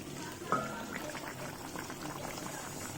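Fish curry simmering in a pot, with a steady soft bubbling and hiss running throughout at low level, a brief clink near the start, and no talk over it.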